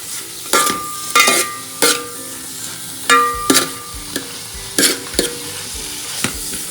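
Onion frying in oil or ghee in a pan for chicken curry, stirred with sharp scraping and clinking strokes at an uneven rhythm over a soft background sizzle, close and fairly loud, no talking.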